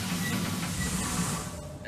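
Steady broadband hiss of steam escaping from a leak in the horror game Moons of Madness, continuous and fairly close throughout, with a low rumble underneath and a slight drop near the end.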